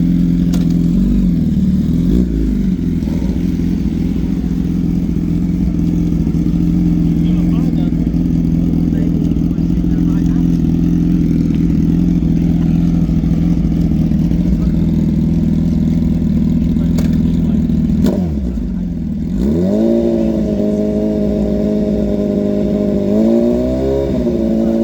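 Gen 3 Suzuki Hayabusa drag bike making a pass at a drag racing final, a loud sustained high-revving engine roar with a brief drop and rerev near the end, under crowd and commentary talk.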